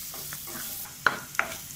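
Onions fry gently in a pan, giving a soft, quiet sizzle broken by two sharp clinks or scrapes of a stirring utensil near the end.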